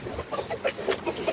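A rooster in a chicken coop gives a short run of soft, close clucks, several quick notes in an uneven rhythm with no talk over them.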